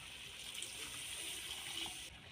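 Water pours steadily into a pan of cauliflower being cooked chili style, a continuous gushing splash that cuts off abruptly near the end.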